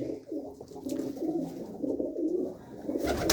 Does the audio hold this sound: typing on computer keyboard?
no